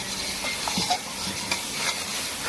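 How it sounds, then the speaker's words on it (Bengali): Masala with shahi garam masala is stir-fried in a pan, a soft steady sizzle under light scraping and stirring taps, close and fairly quiet. "এখন দিচ্ছে এর মধ্যে একটু শাহি গরম মশলা এখন এই মশলাটাকে খুব ভালোভাবে কষিয়ে নিতে হবে"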